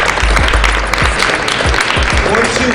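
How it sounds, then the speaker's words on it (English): Dense crowd applause, loud and continuous, with a few whoops and raised voices mixed in throughout. "Please give us a round of applause."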